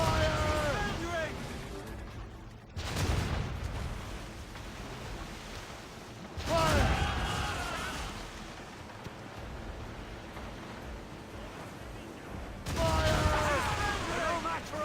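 Naval cannon fire during a ship boarding battle in Assassin's Creed Rogue: three heavy booming volleys with long rumbling tails over steady wind and sea noise, with shouting voices mixed in.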